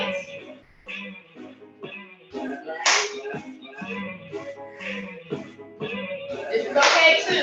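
Hands clap together during a family fitness workout session, a few sharp claps standing out among steady movement sounds and a voice talking throughout.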